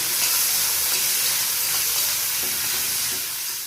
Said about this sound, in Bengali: তেলে লবণ, চিংড়ি মাছগুলো ভেজে নেব